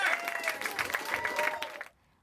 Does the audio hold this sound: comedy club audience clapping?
yes